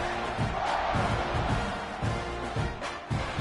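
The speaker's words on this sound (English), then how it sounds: "this crowd is buzzing after that last score" Football stadium crowd buzzing after a score, a dense roaring murmur with rhythmic surges and thumps, loud and continuous.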